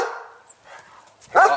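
A German shepherd barks once, a sharp, loud bark outdoors near fields and woods, following a stretch of quieter background sound.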